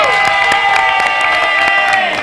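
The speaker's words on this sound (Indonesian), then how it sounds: "Oh, tepuk tangan dong." A studio audience at an Indonesian TV talk show cheers and applauds in a dense, steady wash of crowd noise, with whoops and shouts that stay loud throughout.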